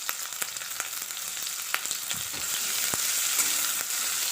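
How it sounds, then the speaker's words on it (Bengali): Close, steady sizzle of chopped onions frying in hot oil with nigella seeds, punctuated by sharp scraping taps of a spatula stirring the pan. "কালো জিরেটা একটু ভাজা হলে পেঁয়াজ কুচি দিলাম।"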